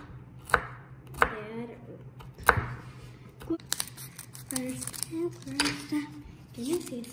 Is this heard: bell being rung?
no